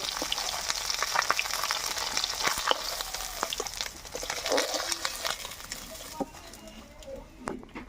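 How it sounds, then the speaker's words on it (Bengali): Snakehead fish fry in oil, sizzling and crackling steadily in a pan, with sharp pops and spatters rising over the hiss, close by and continuous. "মাছগুলো আমার সব ভাজা হয়ে গেছে তুলে নেব"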